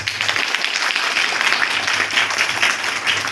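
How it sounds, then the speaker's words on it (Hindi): Sustained audience applause greeting honoured guests at a ceremony held in memory of former Prime Minister Atal Bihari Vajpayee, dense steady clapping filling the hall throughout. "जिनका हम तहे दिल से और जोरदार तालियों से स्वागत करते हैं"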